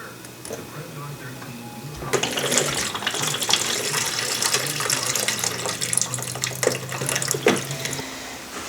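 Coolant gushes from a disconnected bottom radiator hose on a Polaris General, a steady splashing pour that starts abruptly and runs on with a voice talking over it.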